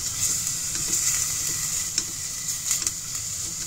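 Chicken adobo ingredients sautéing in a pan, a steady bright sizzle with stirring scrapes and a few sharper crackles, close and continuous with no talk.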